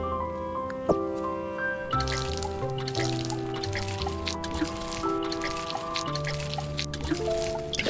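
Crops being watered in the farming video game Grimshire, soft trickling and dripping water effects over steady layered game music with bright melodic notes throughout.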